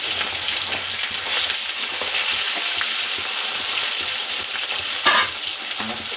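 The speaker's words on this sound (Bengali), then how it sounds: "খুব লাল করে মাছগুলো আমার ভাজা হয়ে গেছে" Pieces of chela fish fry in oil with a constant, close crackling sizzle and occasional sharper spatters or stirring clicks, continuing steadily with no talk.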